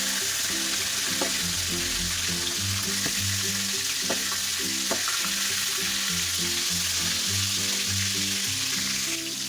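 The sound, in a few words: pointed gourd (potol) frying in a pan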